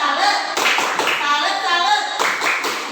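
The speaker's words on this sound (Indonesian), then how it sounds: "tepuk tangan dulu dong" Classroom audience of teachers clapping together in a short burst, busy and close, with children's voices and chatter mixed through the claps.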